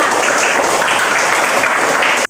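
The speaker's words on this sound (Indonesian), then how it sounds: "Tepuk tangan untuk Aulia dan Reja" A classroom of students claps loudly together in a short, dense burst that stops abruptly at the end, close and unbroken with no talking.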